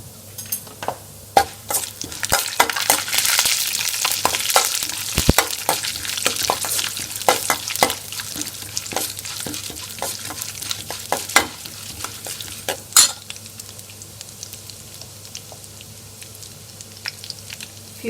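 Chana dal and urad dal fry in hot oil, crackling and popping in scattered sharp bursts over a steady sizzle, close and fairly loud, with stirring clicks and a low hum underneath.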